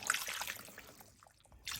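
Water pours from a cup into a pot of red chili, a short, soft splashing trickle close by that tapers off and then briefly picks up again.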